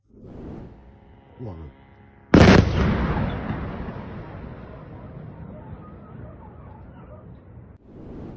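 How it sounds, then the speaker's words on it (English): A faint voice, then one sudden loud explosion booms and rolls off into a long, rumbling fade. "More than 10 explosions were heard over the city."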